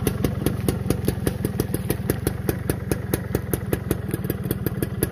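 A 2006 Suzuki Xipo motorcycle on its original stock exhaust idles close by with a steady, even pulsing beat that holds for about five seconds. No voices are heard.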